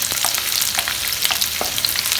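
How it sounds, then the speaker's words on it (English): Chopped ginger and garlic sizzle steadily in a hot pan for a Goan chicken masala, a loud close frying hiss with occasional stirring scrapes. "We add in this the ginger and the garlic which we have chopped, and fry this for a minute"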